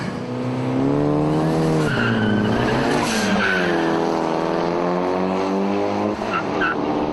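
A Toyota Celica race car launches hard off the line, its engine revving through rising and falling gear sweeps with tire squeal, loud and close with no talk.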